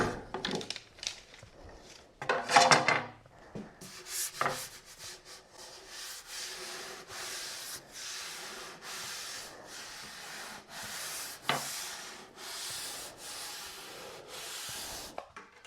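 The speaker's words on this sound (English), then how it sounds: "To apply pressure to the veneer, I'm using a piece of plywood here that I've rounded over the edge." A piece of plywood with a rounded-over edge is pressed and dragged across wood veneer glued with contact cement, making a rhythmic series of soft scraping strokes, fairly quiet and close, after a few louder knocks at the start.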